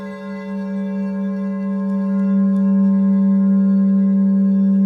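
Steady, sustained ringing tones with rich overtones, like singing bowls humming, swelling slightly in loudness and lingering without pause.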